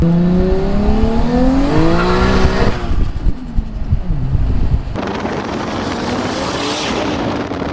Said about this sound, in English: You never heard a turbo car sound before.